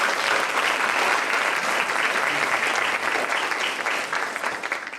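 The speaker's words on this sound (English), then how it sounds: "a quick round of applause for our summer interns" Audience at a New York City Law Department awards ceremony applauds the summer interns, with steady, dense clapping that holds evenly throughout and starts to thin near the end.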